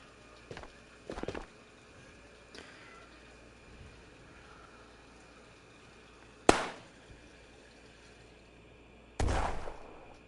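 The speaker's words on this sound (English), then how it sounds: "This is an impact grenade." Sharp explosive bangs from an impact grenade in Ghosts of Tabor, with a few scattered cracks early, then two loud, abrupt blasts several seconds apart with short decaying tails over quiet background.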